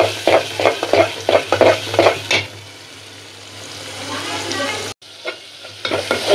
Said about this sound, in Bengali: আমি চিংড়ি মাছ পেঁয়াজ দিয়ে দিচ্ছি, ভাজা ভাজা করে সুন্দর করে